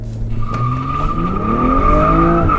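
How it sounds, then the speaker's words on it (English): A tuned Stage 3 BMW M135i hatchback spins its tyres on launch, a loud continuous squeal over a rising, revving engine heard close up. "So much wheel spin."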